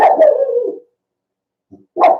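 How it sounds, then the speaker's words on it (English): A dog gives an alert bark at an open door at night: one sharp, near bark, a short pause, then a second bark starting. "That's the alert bark."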